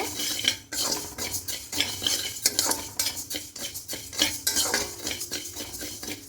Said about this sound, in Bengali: দিয়ে হালকা কড়াই একটু ভেজে নেব